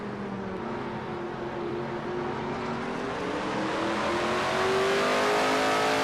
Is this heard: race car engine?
yes